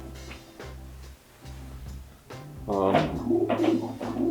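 Pigeons from a family of racing birds cooing close by, low rounded coos repeating in soft pulses that swell louder toward the end, with a voice briefly speaking amid the birds.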